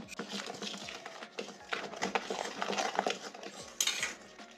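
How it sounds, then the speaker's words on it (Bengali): Flour being whisked into cake batter in a bowl, a busy scraping and clinking of the whisk against the bowl, steady and close with a few sharper knocks, no talking. "দিয়ে আমি প্রথমে একটু ভালো করে ফেটিয়ে নেব"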